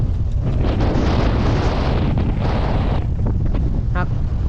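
Strong wind blows across a mountain ridge in the Phu Luang range near the Laos–Vietnam border, a loud continuous roar buffeting the microphone, with a brief voice near the end.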